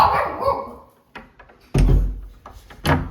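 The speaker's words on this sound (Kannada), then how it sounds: "ಕುರಿ ನೋಡ್ಬಿಟ್ಲು, ಅದಕ್ಕೆ ಬೊಗಳ್ತಾವಳೆ." A dog barks at sheep outdoors, a couple of sharp, fairly close barks separated by quieter gaps, with some faint background noise between them.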